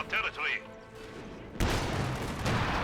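Mortar and MG42 machine gun fire in the video game Company of Heroes 2, a brief whistle and lull followed by a loud burst of gunfire and explosive impacts that continue to the end.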